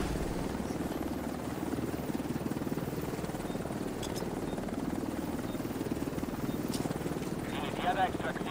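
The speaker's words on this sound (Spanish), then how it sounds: "El helicóptero está casi al alcance." Helicopter in the video game The Division 2, a steady rotor thrum and engine drone holding throughout at moderate level, with a few faint game clicks and beeps near the end.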